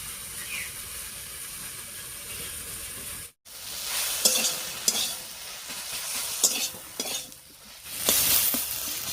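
Sweet potato greens cook in a pan after salting, giving a steady close sizzle broken by scraping stirs and light clinks of a utensil against the pan, with one brief dropout partway through.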